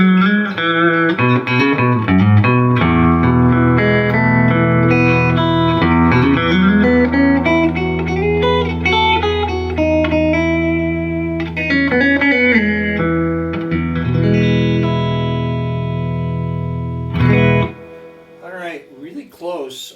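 Electric guitar played through a Fender '65 Princeton Reverb reissue amp with reverb on, ringing sustained chords and notes that swell and decay with a spacious tail, loud and clear, ending in a brief fading flourish.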